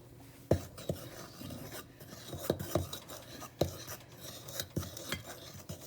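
Baking powder and baking soda being stirred into eggless vanilla cake batter in a bowl: soft scraping and rubbing strokes with a few sharp clicks of a utensil against the side, quiet and close.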